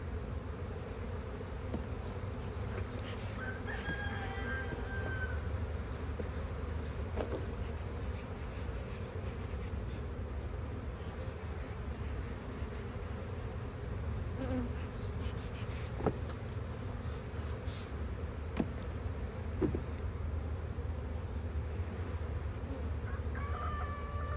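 Honeybees hum in a steady, dense buzz around a hive frame lifted during a spring hive inspection, with a rooster crowing faintly in the distance.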